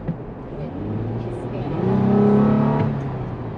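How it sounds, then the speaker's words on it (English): A 2022 Toyota 4Runner TRD Off-Road with a TRD cold air intake revs once up and back down, a rising and falling engine whir heard close, with a voice speaking faintly underneath. "Okay, here's some cold air intake action."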